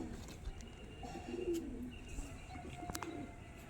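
Pet pigeons coo softly in a quiet loft, giving low, throaty calls in a faint, intermittent series with some light chirps and rustling.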